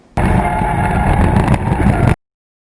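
A Mazda RX-7 FC drifts, with a loud, steady engine roar and tire noise lasting about two seconds before cutting off abruptly.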